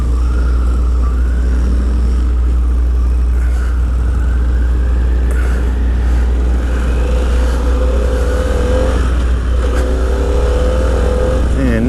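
A 2025 Harley-Davidson Pan America ST motorcycle with its stock exhaust rides steadily, giving a continuous low engine drone with shifting revs under rushing wind, fairly loud and constant throughout.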